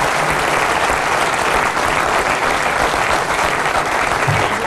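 An audience applauds after a pool trick shot, a dense, steady burst of clapping that keeps going without a break for the whole stretch.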